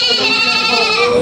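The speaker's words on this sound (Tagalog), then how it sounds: "Ito yung mga kambing na dumarating dito" Goats at a livestock auction market in Lucena give one loud, close, drawn-out bleat.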